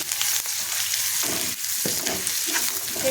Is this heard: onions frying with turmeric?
yes